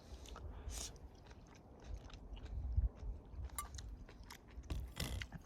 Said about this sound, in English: So go for another bite, see if we can get the crunch.